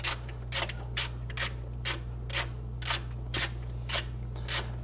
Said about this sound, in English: let's go ahead and take that nut off